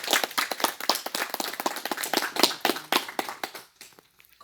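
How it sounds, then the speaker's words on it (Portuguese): A small group gives a round of quick, dense hand clapping at a poetry group's anniversary gathering in Canelinha, close and lively, tapering off near the end. "Uma salva de palmas e parabéns,"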